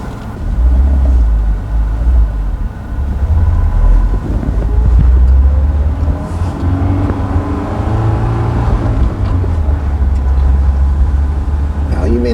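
A Honda S2000 with a four-cylinder engine drives along, its steady, loud engine rumble and road drone holding throughout with slight swells as the revs shift.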